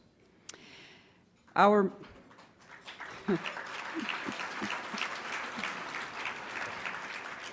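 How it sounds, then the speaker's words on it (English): Gala dinner audience breaks into applause after a speech, a faint scattered start building into steady clapping across the room, preceded by a short voiced sound and distant talk. "Since you are clapping"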